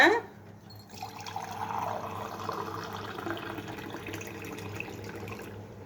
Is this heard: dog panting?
no